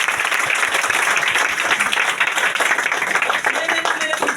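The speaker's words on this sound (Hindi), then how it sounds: "एक बार जोरदार तालियां चाहूंगा।" An audience at a motivational talk bursts into loud, dense applause, continuous clapping that holds strong throughout with a few voices faintly mixed in.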